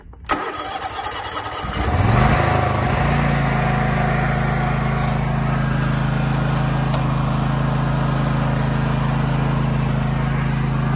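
A Toro TimeCutter riding lawn mower cranks briefly, catches and settles into a loud, steady, close-up engine drone that runs on without talk.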